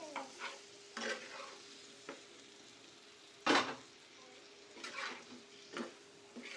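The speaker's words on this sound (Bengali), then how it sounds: "এখানে পেঁয়াজ পাতাগুলো হালকা ভাজা দিয়ে নিব।" Onion leaves lightly frying in a pan make a soft, quiet sizzle, punctuated by intermittent stirring scrapes and light clinks, one louder than the rest midway, with no voices.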